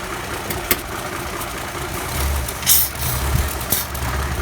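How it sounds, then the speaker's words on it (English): A vintage Mopar car engine idles close by with a carburetor vacuum line pulled off, a steady low rumble with a few sharp clicks and a brief hiss of air partway through, no talk. "If I pull that out right now, it's going to stall. The engine's going to stall."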